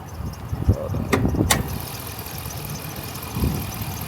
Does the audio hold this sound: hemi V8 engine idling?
yes